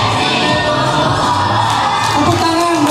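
A loud, dense crowd at a Radio Summit 2025 event cheers and whoops for the Del FM radio station, with sustained roaring and shouting throughout and no pause.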